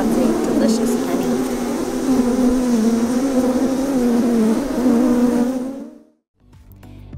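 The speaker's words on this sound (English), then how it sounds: "we have to get the bees off of the frame" Honeybees swarm over a capped honey frame in a hive, a dense, steady droning buzz close up that holds for about six seconds before cutting off abruptly into near silence.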